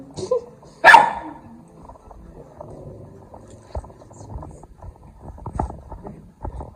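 A dog gives one sharp, loud bark nearby, followed by quieter rustling and faint movement sounds.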